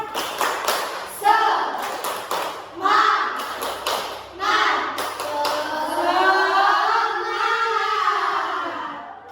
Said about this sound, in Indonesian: Kita akan melakukan tepuk semangat terlebih dahulu